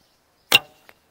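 An arrow loosed from a Crimean Tatar laminated bow: one sharp, loud snap of the string close by, then a faint short knock about a third of a second later, amid silence.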